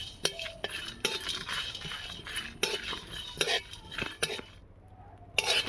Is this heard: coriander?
yes